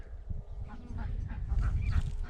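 Several ducks quack in a busy, overlapping chorus over a low rumbling background, the calls growing denser toward the end.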